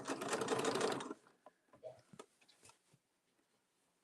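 A sewing machine runs a steady top stitch along the edge of a tote bag for about a second, loud and close, then stops, followed by soft clicks and fabric handling.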